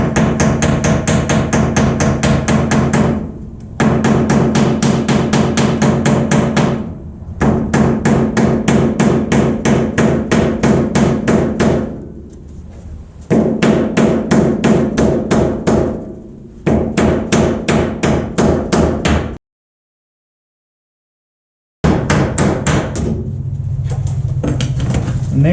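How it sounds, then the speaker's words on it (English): Rapid metallic taps of a hammer peen tracing steel, in long rhythmic bursts, loud and close, with short pauses between runs and a full stop near the end. "the best way to trace steel I found was the peen of a hammer"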